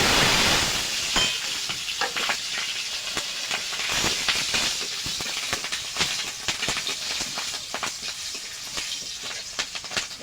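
Cumin seeds and slit green chillies crackle and spit in hot oil for a cabbage dish, a dense continuous hiss peppered with sharp pops throughout, close and steady with no voices.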